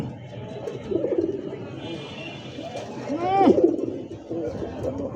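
A male pigeon coos in a rolling burst near the middle, with quieter coos around it and people talking at the same time.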